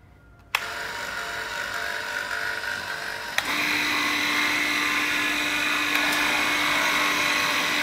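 Three household stainless steel meat paste grinders run together at about 2800 rpm. A motor whine starts abruptly, a second machine kicks in with a louder, steady higher hum, and the combined drone continues evenly to the end.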